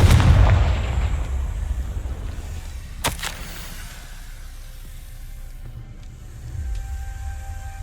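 A Confringo fire-blast spell from the Hogwarts Legacy video game, opening with a loud, rumbling booming burst that decays, then a sharp crack near the middle and a softer rumbling swell toward the end.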